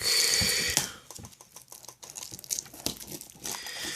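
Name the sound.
opening plastic wrap on a DVD case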